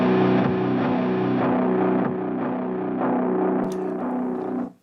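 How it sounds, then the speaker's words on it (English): A sustained, distorted tonal music sample with a simple stereo delay of quarter and dotted-quarter repeats and no feedback holds steady and loud for several seconds, then cuts off abruptly. "And then I added a very simple stereo delay on top of that."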